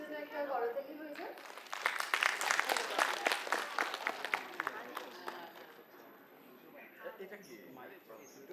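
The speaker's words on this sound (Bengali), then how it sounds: "সবাই ওদের জন্য একটা করতালি হয়ে যায়।" Audience clapping at a Pohela Boishakh cultural program, a burst of brisk applause from a small crowd that rises after a voice speaks, holds for a few seconds and then fades into quiet murmuring.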